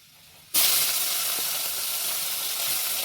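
Fish dropped into hot oil with browned garlic, bursting into a loud, steady sizzle after a brief quiet start and holding strong throughout, with no talking.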